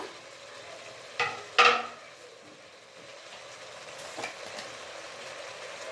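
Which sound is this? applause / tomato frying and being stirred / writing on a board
tomato frying and being stirred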